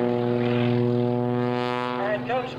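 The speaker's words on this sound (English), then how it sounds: "Rolls the airplane around, kicks the controls." Samson aerobatic biplane at the 2004 Sussex Airshow, its radial piston engine droning loud and steady through a vertical rolling maneuver, pitch shifting slightly near the end while an announcer talks over it.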